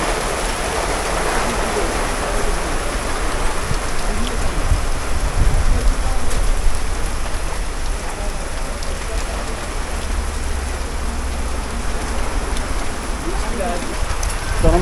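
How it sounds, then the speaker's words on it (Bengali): Heavy rain pouring down outdoors in the city, a loud, dense, unbroken hiss of drops hitting surfaces, close and steady throughout, with occasional voices beneath it. "চরম বৃষ্টি পড়তেছে"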